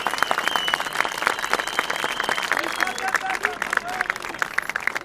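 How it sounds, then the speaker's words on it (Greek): A dense crowd of residents applauding at an outdoor protest beside a military camp. The steady, loud clapping is sustained throughout, with a hum of crowd voices underneath. "Ένα μεγάλο χειροκρότημα σε όλο τον κόσμο που είναι κοντά μας."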